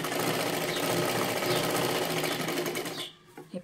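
Sewing machine running steadily while stitching a size 36 katori blouse, a continuous close motor whir with rapid needle rhythm for about three seconds before stopping abruptly, followed by a few soft handling noises.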